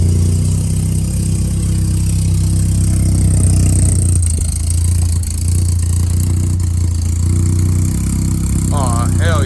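Old Volkswagen Rabbit engine idling loudly and steadily up close, with a constant low hum and occasional clunks as the repaired shifter linkage is moved into reverse.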